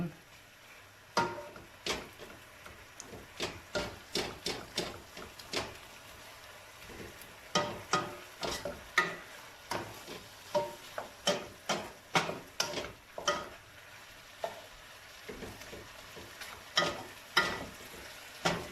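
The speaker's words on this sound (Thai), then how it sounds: "แล้วเราก็มาผัดเนี่ย ผัดให้หมูเข้ากับเครื่องดี ๆให้สุกให้หอม" Pork with seasoning being stir-fried in a pan, a series of regular scraping and tapping spatula strokes over a faint sizzle, fairly quiet and close.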